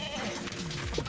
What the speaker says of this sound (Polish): Piękne kozy.